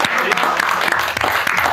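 Loud applause from a small group for players after a comedy game show, dense clapping filling the moment with a few voices mixed in underneath.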